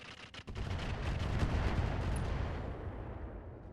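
A dense missile barrage slams home in the mech game RogueTech (BattleTech), a sharp blast cracking out near the start and then rolling into a long, loud rumble that slowly fades.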